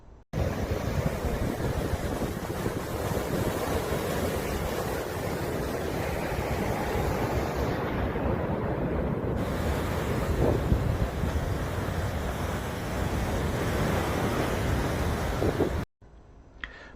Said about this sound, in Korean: 날씨는 맑은데 바람이 많이 불어서 파도가 치는 날이었습니다.